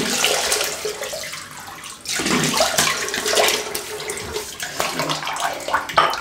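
A tap runs steadily into a sink while water is splashed onto a face before a shave, a loud, continuous hiss and gush with shifting splashes and a brief change in flow midway.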